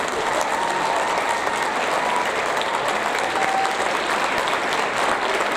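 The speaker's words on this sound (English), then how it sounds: "If we can go ahead and give them a round of applause." A school audience claps for 7th grade award recipients, sustained even applause filling the room from start to finish.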